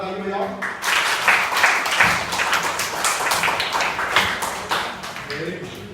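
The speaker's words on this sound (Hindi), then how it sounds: "तालियां बजाइए, तो जोरदार ताली बजाओ" Audience at a good touch and bad touch program in a library clapping, rapid uneven hand claps building after a voice and continuing for several seconds, close and loud.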